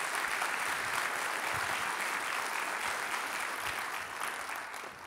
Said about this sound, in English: join me in giving a round of applause and welcoming Spin Launch to Long Beach